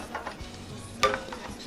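Spoon stirring boiled cinnamon water in a pot, soft scraping and swishing strokes with one sharper clink partway through, close and moderately quiet.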